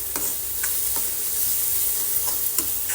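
Paneer bhurji seasoned with pav bhaji masala frying in a pan: a continuous close sizzle with a few light taps of a stirring spoon, no talking.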